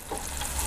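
Chicken-fried bacon sizzles in a hot pan with a steady, close crackle and spitting over a brief moment.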